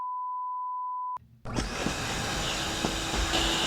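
A Dyson vacuum cleaner in an animated cartoon roars on after a long steady beep tone and a brief pause, then runs with a loud, continuous broadband whir.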